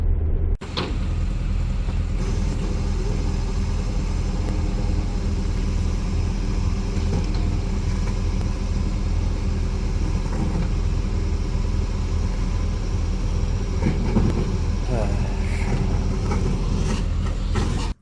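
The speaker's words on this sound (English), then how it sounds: "here we are driving around Scotland with no gearbox" Car driving along roads in Scotland while stuck in third gear with a disconnected gearbox, giving a steady, continuous engine and road drone close inside the cabin with faint rattles and no talk.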